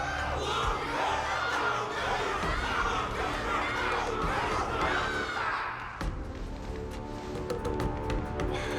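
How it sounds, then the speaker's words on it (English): A large crowd cheers and shouts loudly in Honkai: Star Rail, a dense roar of voices that cuts off abruptly partway through, giving way to quieter ambient music. "Everyone's cheering for you, Luca."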